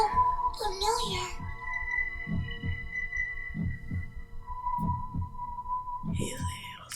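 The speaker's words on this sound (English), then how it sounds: "A heartbeat." A slow, steady heartbeat sound effect from the Black Clover anime throbs in evenly spaced double pulses beneath a low hum, with quiet whispery voices and shrill tones at the start and end.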